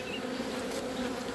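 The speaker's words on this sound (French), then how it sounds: "Je les fais voler un peu les abeilles." Honeybees buzzing at an opened hive after a frame was bumped: a dense, continuous, close drone of many wings, steady and loud throughout with no talking.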